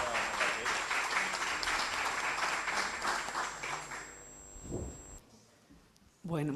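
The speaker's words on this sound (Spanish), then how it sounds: "Le pido un fuerte aplauso, por favor" An audience at an international congress on the Jesuit Guarani missions applauds a speaker in a dense, steady burst that fades after about four seconds, followed by a voice speaking.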